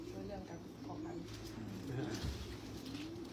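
Pigeons coo softly in a pigeon loft at a Belgian pigeon centre, low throaty calls repeating amid quiet background noise.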